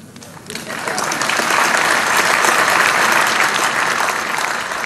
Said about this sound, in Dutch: APPLAUS.